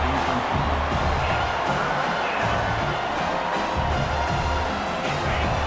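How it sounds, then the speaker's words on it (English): A dense stadium crowd in a college football video game (Ohio State vs Washington) roars and cheers steadily throughout, loud and continuous with occasional whoops rising out of the din, during a red zone defensive stand. "And here comes the noise. This crowd is trying to inspire this defense to make a big red zone stop."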